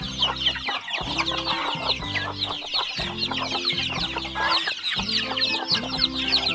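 Hens and newly hatched chicks on a farm cluck and peep continuously, a dense overlapping chorus of close clucks with high chick cheeps, no talking.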